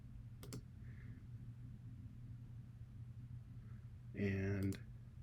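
Sharp mouse clicks come while installing AcuGraph software: a single click early on, then a quick double click later. Both are brief and close over a low room rumble, and a short voice sound overlaps the second.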